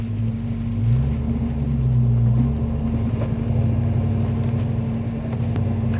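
An LS V8-swapped Toyota Hilux drives around the block with a steady, deep engine rumble heard from inside the cab, revs swelling briefly then settling into a low, even drone.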